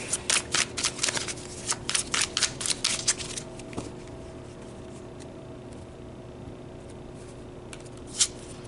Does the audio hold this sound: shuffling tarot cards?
yes